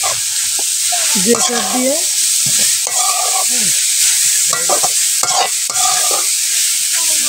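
Grated carrots, about 300 grams, sizzle and fry in ghee while being stirred for a carrot pudding, a steady loud hiss of frying broken by scraping strokes, with a brief voice speaking over it.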